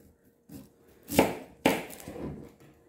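A knife slices an onion bulb in half on a board, giving two sharp, close chopping thuds about half a second apart with quieter handling noise around them. No one speaks.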